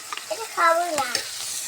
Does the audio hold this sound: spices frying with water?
yes